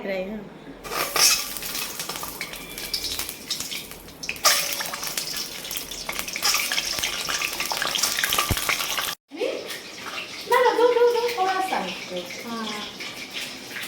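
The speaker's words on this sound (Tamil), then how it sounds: "எண்ணெய் நல்லா சுட்டுருச்சு. எக் இப்போ அவிச்ச 4 எக்கையும் இப்போ சேர்த்துக்கலாம்." Four boiled eggs dropped into hot oil set off loud, crackling sizzling, with utensil clatter, a brief silent break and a renewed burst of frying, plus a voice partway through.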